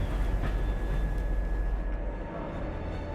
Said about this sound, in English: The train half with the new bogies now comes to the paint shop.